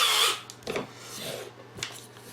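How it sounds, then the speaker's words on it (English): A small step drill bores into a marked workpiece in short, fairly quiet bursts of grinding and rasping, with no talking. "put in my small step drill to start with"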